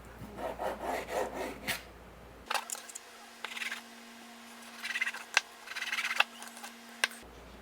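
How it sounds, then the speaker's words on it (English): A knife trims excess fat off raw chicken on a cutting board, giving scraping, rasping strokes and small taps in irregular bursts, close up with a faint steady hum behind. "Trim this excess fat off."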